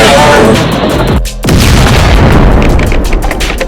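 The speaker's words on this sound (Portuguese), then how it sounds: "Cuidado, vai explodir." A loud, close explosion blast from a dubbed animated battle over destroying an engine, with a brief dip into near-silence before a long rumbling roar and crackling debris.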